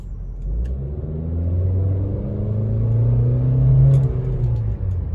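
Inside a 2021 Chevrolet Trax while driving, the engine drones low and steady, rising in pitch and loudness as it accelerates, then easing off, with no one talking.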